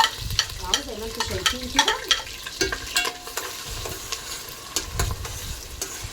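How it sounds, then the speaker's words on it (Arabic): Onions fry in ghee and oil in a pan, sizzling softly while a spoon stirs and scrapes in an irregular rhythm, and someone speaks briefly over it. "نبدا بقى ان احنا ننزل بالبصل"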